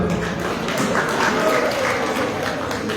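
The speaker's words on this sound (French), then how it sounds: "Vous pouvez l'applaudir." An audience in Paris applauds a girl who answered a quiz question about the Comores, steady clapping from a moderate crowd with voices mixed in underneath.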